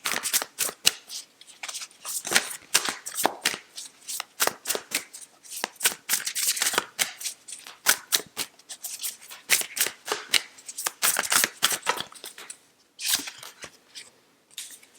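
Tarot cards being shuffled in a long run of rapid, crisp riffling and slapping bursts, fairly close and steady, with no talking over them.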